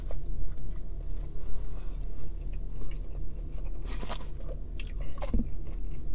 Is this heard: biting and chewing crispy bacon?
yes